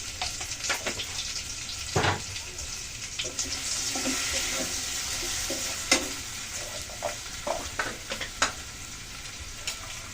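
Spices frying with tomatoes in an oil-filled pan for a tilapia fish and potato curry, a continuous quiet sizzle broken by scattered stirring clicks and scrapes, close and without talking.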